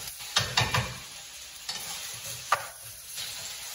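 Food stirred and sizzling in a hot pan while cooking a hangover breakfast, with a few short scrapes and clatters over a low, steady fry, close and fairly quiet, no talk.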